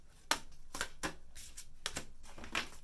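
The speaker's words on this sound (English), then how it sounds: "This deck is hard to shuffle." An oracle card deck is shuffled by hand in a series of soft, riffling bursts at irregular intervals, quiet and close with no speech.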